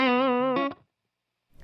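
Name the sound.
electric guitar anchor lick with effects, rake-picked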